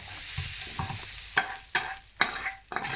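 Bell pepper browns in a hot pan for spicy chili, a close, bright sizzle running throughout with several sharp scraping stirs of a utensil across the pan at roughly half-second intervals.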